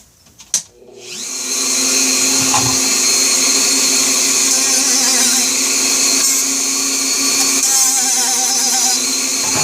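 A Dremel rotary tool clicks on and quickly spins up to a loud, steady high-pitched whine that holds close and constant with slight wavering, no talking.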